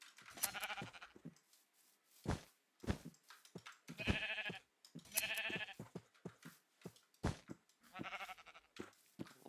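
Sheep in the Minecraft video game bleat repeatedly in short, wavering calls spaced irregularly, fairly close, with small game clicks between them and no talk.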